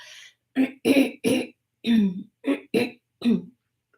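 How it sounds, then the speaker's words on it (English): Repeated harsh throat clearing, seven short guttural bursts in an uneven rhythm, close to the microphone with brief silences between. "I'm sorry about that. Clearing my throat."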